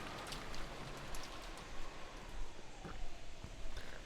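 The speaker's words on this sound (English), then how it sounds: "the sound of the downpouring rain kept turning their attention toward the mystery guest" Heavy rain pours steadily in the Umineko visual novel game, a dense, even patter of drops striking surfaces with no voices over it.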